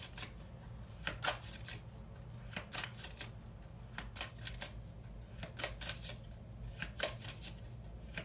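Tarot cards being shuffled by hand, repeated quick riffling bursts and soft slaps in an uneven rhythm, close and quiet, with no talking.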